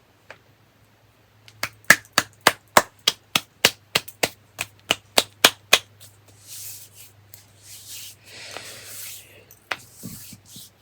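Hands clap sharply in a fast, even series of about twenty crisp claps, followed by softer rubbing and shaking of the hands, with quiet low hum in the background.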